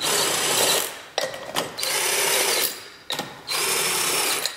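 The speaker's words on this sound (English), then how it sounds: "I'm just gonna use this impact driver to get them most of the way tight" A power impact driver runs in three long whirring bursts while tightening wheel lug nuts, loud and close, with brief pauses and clicks between each burst and no talking.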